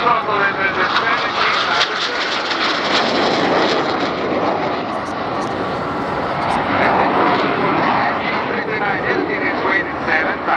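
Frecce Tricolori aerobatic jets pass at full throttle during an air display, a loud continuous broadband roar that swells and holds for the whole stretch, with a voice talking over it.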